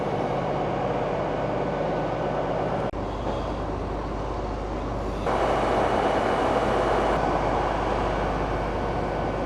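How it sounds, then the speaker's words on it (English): A Hull Trains service to London St Pancras stands at a station platform, its engine idling in a loud, steady rumble. The noise shifts in level partway through, and nobody talks. "Just waiting here for the doors to open on the Hull train service to London St Pancras."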